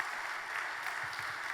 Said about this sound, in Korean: 다시 한번 우리 예단기 친구들에게 박수 부탁드리겠습니다.